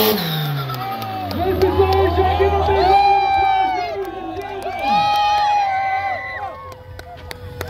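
A festival crowd cheers and shouts for a Formula 4 race car driver, with a race engine revving and whining through the noise. Voices and excited yells swell in two bursts.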